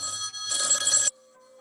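A telephone rings with a bright electronic trill for about a second, cutting off abruptly into near silence; the tone is close and clear with no talking.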